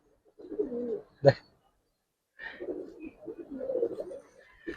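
Pigeons coo in soft, throaty bursts, the Giribaz and Kaldom breeds kept as a mated pair, with a sharp flutter or clap between calls and someone speaking briefly in the clip.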